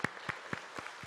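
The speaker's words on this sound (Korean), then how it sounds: "우리 함께 온 성도들께서 우리 박수로 같이 한번 우리 어르신들 맞이할 수 있도록 하겠습니다" A church congregation applauds to welcome the elderly members of a seniors' mission group at a worship service; a short burst of soft, rhythmic clapping, a few distinct claps, with no voices.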